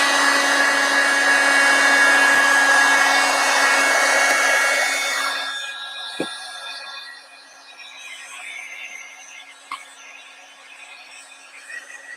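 A craft heat tool or dryer roars steadily at close range while drying a mixed media tag for about five seconds, then switches off, leaving quiet room noise with a couple of small knocks.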